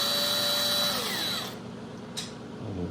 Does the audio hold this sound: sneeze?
no